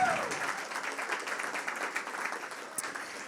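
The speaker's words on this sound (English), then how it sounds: "How about another round of applause for Jamie and Michelle" Moderate applause ripples through a small pub talk audience, scattered clapping that fades over a few seconds, fairly quiet and distant.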